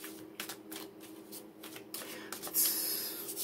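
Tarot cards are shuffled in soft, quick riffling bursts at a low level, repeating in a loose rhythm with a brighter flurry near the end.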